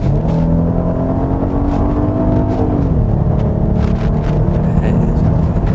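A Genesis GV80 3.5T gasoline SUV accelerating hard to overtake, its turbocharged engine droning steadily and loudly from inside the cabin, the pitch shifting as it pulls through the gears, with no talking.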